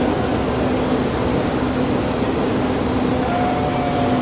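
A loud fan runs in a hotel basement in a steady, close, broadband whoosh with a faint tonal hum and no pauses.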